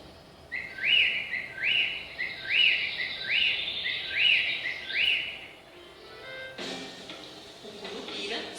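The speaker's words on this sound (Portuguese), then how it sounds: "as araras, espantadas, assoviam pedindo a ajuda do Curupira" Macaws in a forest whistle in alarm as a story sound effect, a run of six evenly spaced, bright rising whistles, followed by a softer noisy rustle near the end.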